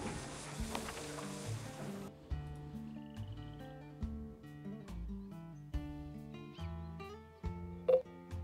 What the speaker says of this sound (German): Da hatte ich mir einen Alarm programmiert.